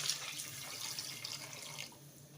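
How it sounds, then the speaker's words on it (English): Water runs steadily from a tap or jug into a pot of jollof rice with beef and chicken stock, a continuous close splashing pour lasting a couple of seconds before tapering off. "so I'm going to add in more water."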